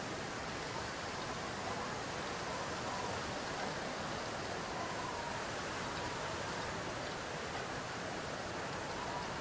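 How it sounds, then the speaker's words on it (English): Steady, dense rushing water roars without pause, a broad hiss of a large waterfall in the video game The Long Dark, heard continuously at an even loudness. "I think this is the large waterfall we saw from across the way"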